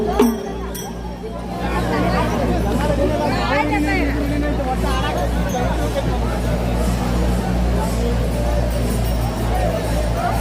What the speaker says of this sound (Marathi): दर्शनासाठी आलेले भाविक वारकरी मोठ्या प्रमाणात गर्दी केलेली आहे